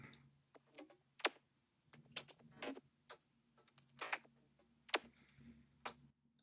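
Dry glitchy percussion loop for a minimal tech house track, played with no effects: sharp, sparse clicks and ticks in an irregular, stuttering rhythm over a faint low hum, close and fairly quiet.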